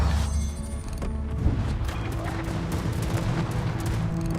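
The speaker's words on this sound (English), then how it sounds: "Anti-aircraft guns going off in the Shikaku's dive bombers." Anti-aircraft guns rattling in a World of Warships naval battle, firing at carrier dive bombers from a German battleship; dense continuous bursts of gunfire and booms over a low rumble, loud and sustained.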